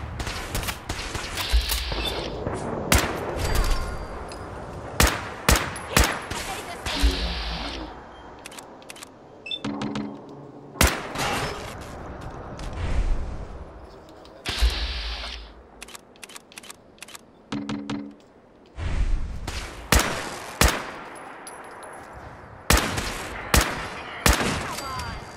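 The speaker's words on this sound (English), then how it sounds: "Laser shotgun, basically." Sharp, loud blasts from a laser shotgun in Fallout 4 fire in irregular bursts, each crack followed by a short mechanical clatter, with quiet gaps between volleys.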